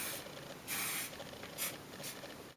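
Hairspray hisses from an aerosol can onto hair in several close, steady bursts with brief gaps between them.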